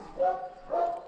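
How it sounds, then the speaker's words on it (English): Two short, whiny barks or yips from an Anatolian mix dog, close by, about half a second apart. "She's a beautiful dog."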